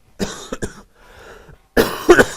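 Several coughs in quick succession during a lecture, close and loud, followed after a brief pause by a harder, louder burst of coughing.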